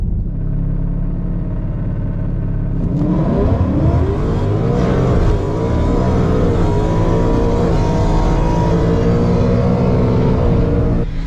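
Supercharged 2022 Ford Mustang GT fitted with an ESS G3 supercharger and a new Circle D converter, accelerating hard down a drag strip: a loud, close engine rumble builds into a rising wail through the gears and then holds steady at full power.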